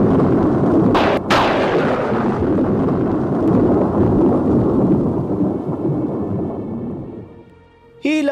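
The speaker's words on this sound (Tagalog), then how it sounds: "Biglang nagkaroon ng kulog at kidlat." Thunder and lightning storm: a sharp crack gives way to a long, loud, heavy rumble that rolls on for several seconds and then fades.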